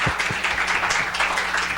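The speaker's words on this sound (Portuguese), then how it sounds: "Uma salva de palmas aqui," Audience applause for a professor at the close of a university talk, a steady dense patter of clapping hands filling the hall throughout, with no voices over it.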